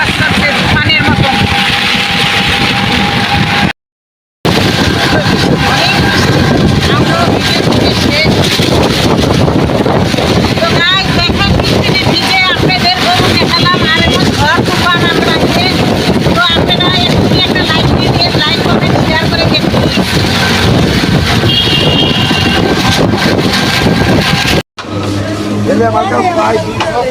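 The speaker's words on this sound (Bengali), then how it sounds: "অনেক জোরে বাতাস করছে তুফানের মতন" Strong stormy wind buffets the microphone on a rainy day, a loud continuous roar and rumble with heavy gusting throughout, broken by a brief dropout; a voice speaks over it at times.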